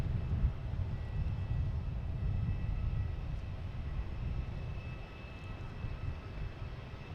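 An Iberia Airbus A321neo departs Boston Logan for Madrid, producing a steady, distant low jet roar that holds at an even level throughout, with no voices over it.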